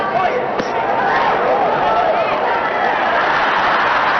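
Arena crowd at a heavyweight boxing bout between Muhammad Ali and Alfredo Evangelista, a steady loud roar of cheering and murmur that holds throughout, with a commentator's voice talking over it.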